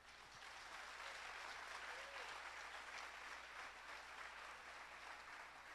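A church congregation applauds together, a quiet, steady patter of many hands that sounds somewhat distant and holds evenly throughout.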